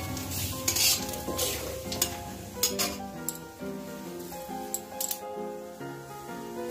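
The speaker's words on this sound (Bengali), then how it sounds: "তেজপাতাটা দিচ্ছি কড়াই," A bay leaf sizzles in hot oil in a wok for a Bengali bottle gourd and potato curry while a utensil stirs and scrapes in bursts, a close frying hiss over background music.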